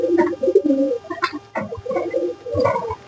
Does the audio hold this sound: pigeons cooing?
yes